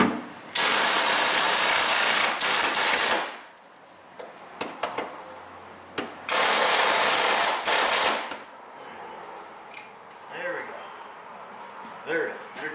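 Ratchet zipping down bolts on a Firebird Trans Am fuel pump, heard as two loud, fast bursts of clicking, close up, with quieter handling clanks between them and someone speaking briefly.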